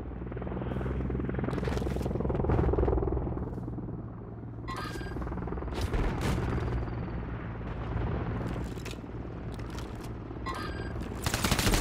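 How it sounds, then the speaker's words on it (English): Overwatch helicopter arriving in a Call of Duty match, a low rotor drone swelling and easing under bursts of gunfire and explosions in the game's battle noise. "Friendly Overwatch helo inbound."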